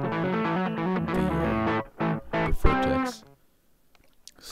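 Electric guitar with a stock Boss Super Overdrive pedal, playing through a VHT Special 6 amp. Loud, driven chords and notes ring out, then cut off and give way to near silence with a few faint pick noises.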